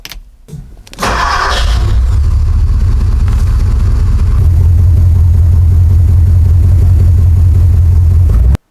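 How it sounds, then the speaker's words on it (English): A car engine started after a spark plug change: a brief cranking stutter, then the engine catches and settles into a loud, steady running rumble that grows slightly fuller partway through before cutting off at the end. "Last but not least, of course you want to start and run your vehicle."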